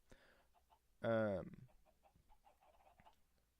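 A video game chicken gives a single loud clucking call in the middle, with faint quieter sounds before and after and no talking.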